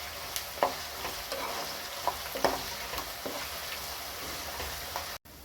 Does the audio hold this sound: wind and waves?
no